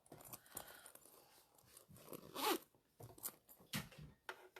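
A clothing zipper is pulled along its track in several quick rasping strokes, close and fairly quiet, with a longer, brighter zip in the middle and short tugs and rustles around it.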